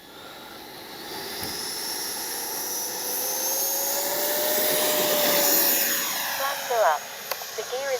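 Freewing 90mm F4 Phantom II RC jet with take-off flaps set, its ducted-fan whine building and rising in pitch during the take-off run and climb on a warm day, fairly distant, fading slightly at the end.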